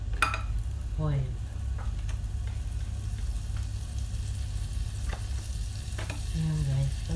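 Butter melting in oil in a pan for banana pancakes, a soft steady sizzle under occasional clinks of utensil against pan, with brief bits of speech in the background.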